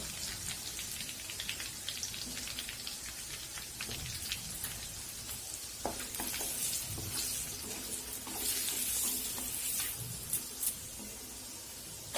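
Onion pieces with bay leaf and turmeric sizzle and crackle steadily in hot oil in a pan for aloo dum, a dense continuous frying hiss with occasional louder pops and stirring scrapes, close and without talk.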